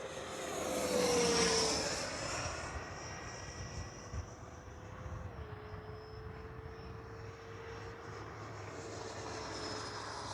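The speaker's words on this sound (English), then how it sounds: "What a great flying jet." Freewing F9F-8 Cougar 80mm electric ducted-fan RC jet flying past, a whining turbine-like roar that swells as it passes close, then a steady distant whine with shifting pitch.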